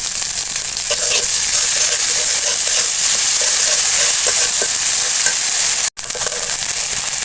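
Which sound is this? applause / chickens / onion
onion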